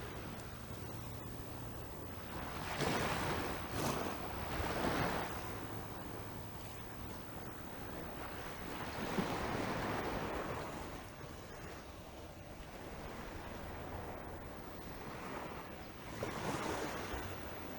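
Fresh water rippling at a bay on a calm morning, a soft broad wash of lapping and surf-like swells rising and falling throughout, with some wind noise on the microphone and no talking.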